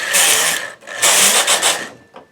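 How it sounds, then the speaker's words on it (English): Carriage of a knitting machine sliding across to knit a hat band onto a baby beret, two close rasping, whirring sweeps followed by a short trailing rattle. "And this carriage coming over and knitting sews the hat band to the hat"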